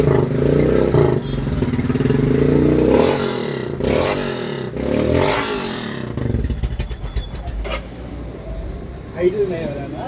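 A Royal Enfield Himalayan with a 471cc big-bore kit revs loudly and close, its engine rising and falling in several surges before settling into a rougher, uneven run, with voices talking over it.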